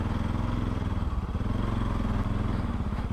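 Bajaj Pulsar NS 200 motorcycle fitted with an Akrapovic exhaust and dB killer, riding along with a deep, throbbing exhaust note that rises and falls with the throttle, close and continuous.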